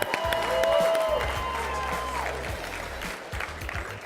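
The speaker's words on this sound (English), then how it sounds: "Come on, give her a nice round of applause." Crowd at a conference bartending and drink-mixing competition applauding and cheering a contestant, a loud burst at first that thins out, with some voices and a few sharp tones mixed in.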